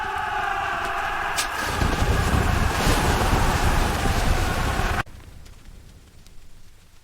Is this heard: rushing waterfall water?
yes